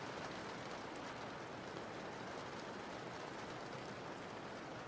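Steady rain, a dense, even hiss of drops with no breaks, fairly quiet and constant from start to finish, with no other sounds over it.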